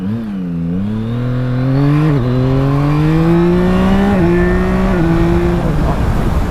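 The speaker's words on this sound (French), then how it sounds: "La raison que tu vas acheter une MT-09, c'est pour le moteur." A 2024 Yamaha MT-09 motorcycle's engine revs loud and close, its tone climbing through rising sweeps with brief dips between gear changes as it accelerates hard.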